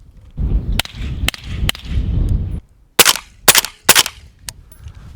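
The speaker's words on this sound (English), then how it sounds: "So here's what it sounds like at 25." Keystone Lake Armory Ripsaw shots fired at a 25-yard range: a few lighter cracks over rumbling background noise, then a quick run of four loud, sharp reports.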